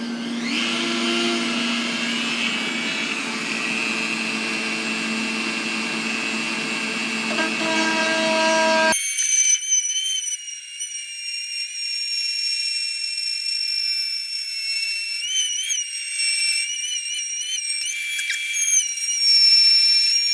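Power tool bit boring through wood of a pantry, a steady loud whine with tonal harmonics, shifting partway through to a thinner high-pitched screech as the bit cuts, continuous and close.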